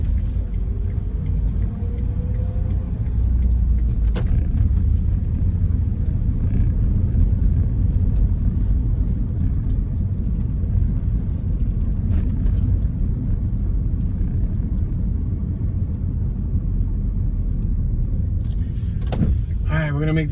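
A car drives and turns a corner on a rundown city street in Jackson, Mississippi, a steady low road rumble and engine hum heard from inside the cabin, with a brief rattle near the end.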